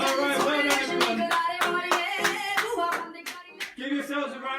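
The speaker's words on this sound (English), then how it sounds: "Give yourselves a round of applause." A group applauds after a Bhangra cardio workout session, with dense, quick clapping from many hands that carries on steadily for several seconds, close and loud.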